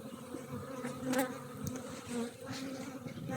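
Honeybees buzzing around a hive as newly bought colonies fly out, a dense steady drone of many insects close by with no talking.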